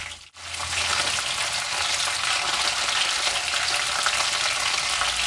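Garlic hits hot oil for a prawn masala, bursting into a loud, close, continuous sizzle after a short dip at the start and holding steady, dense and crackling, to the end.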